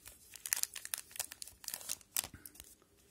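Foil hockey card packs from a 2019/20 O-Pee-Chee hobby box are torn open and crinkled by hand, close and fairly quiet, a quick burst of irregular ripping and crumpling with no talk.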